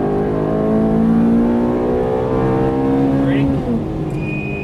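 A Ferrari F430 engine revving under throttle on a track, with a loud, sustained, smoothly rising engine tone held close throughout and a voice talking over it.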